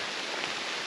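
Rain patters steadily on tree leaves along a mossy valley trail, a soft, even hiss that fills the air, with no voices.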